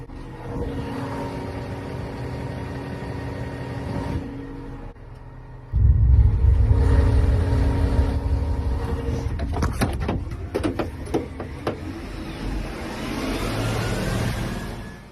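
Car driving down a dirt road, a steady engine rumble with rough road noise that surges louder midway, followed by a burst of sharp knocks and rattles before the drone settles again.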